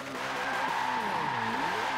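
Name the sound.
twin turbo Dodge Super Bee tires skidding in donuts, Forza 7 (video game)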